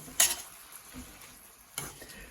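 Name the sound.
stirring cauliflower pasta soup in a pot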